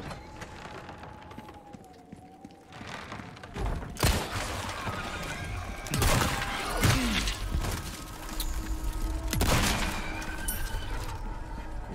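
Several loud, sharp 12-gauge shotgun blasts in Resident Evil 4 Remake, spaced a few seconds apart, over a constant background of ambient game noise.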